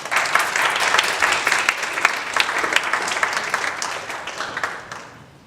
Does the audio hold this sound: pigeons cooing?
no